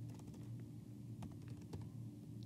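Fingers tap quickly on a computer keyboard, a steady run of light, close clicks over a low background hum, with no talk.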